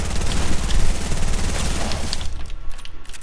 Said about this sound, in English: There's guys shooting me.